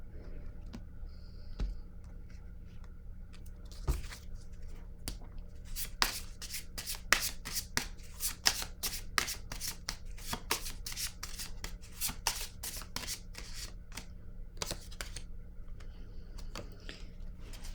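Tarot cards are shuffled by hand in a run of crisp riffles and rapid flutters, loudest through the middle section, over a quiet room hum with no talking.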